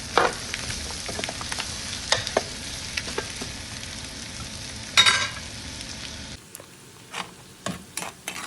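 Two chopped onions with green chillies fry in a pan for spicy egg pasta, a steady close sizzle with scattered stirring scrapes that drops away near the end, leaving sparse clicks and no talking.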